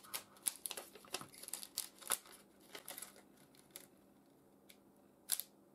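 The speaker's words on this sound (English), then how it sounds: "we just need to cut those wires with some wire cutter" Wire cutters snipping the thin power wires of a display's backlight LEDs, a scatter of sharp close clicks and snaps over quiet, some in quick succession, one last isolated snip.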